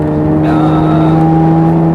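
Jaguar F-Type V8 S sports car, a 550 hp V8, driven on the Capuava race track, its engine droning loud and steady with a strong low hum throughout, no talk.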